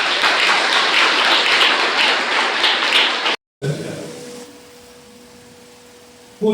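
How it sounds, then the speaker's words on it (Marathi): A dense burst of loud audience applause at a school student award ceremony lasts about three seconds and cuts off abruptly, leaving a quiet hum of the hall. "जोरदार टाळ्या."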